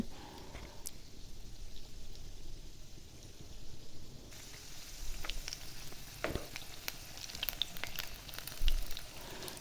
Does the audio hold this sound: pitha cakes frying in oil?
yes